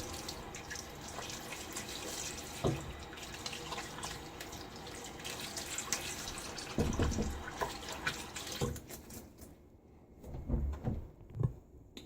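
Tap water runs into a sink as a face is rinsed after shaving, a steady close splashing with a few knocks and clatters before the flow stops near the end.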